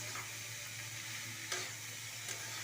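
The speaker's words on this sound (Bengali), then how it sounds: "কাঁচামরিচ দিয়ে দিলাম 4-5টা, একটু নাড়াচাড়া করবো।" Radish and four or five green chilies stirred in a frying pan, giving a steady soft sizzle with faint scraping strokes of the spatula, two brief louder stirs standing out, no voices.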